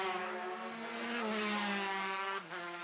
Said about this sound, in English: Jim Hines singing sweetly that TZ250.